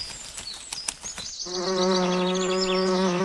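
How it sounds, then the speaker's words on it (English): Insects buzz among garden flowers, first a few scattered short buzzes and chirps, then a loud, steady, close drone that holds to the end. "Lottie fluttered up and saw the bees collecting nectar."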